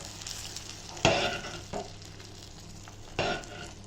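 Rice stirred with ghee in a pan, heard as a few close scraping sweeps that come in separate bursts over a soft steady sizzle.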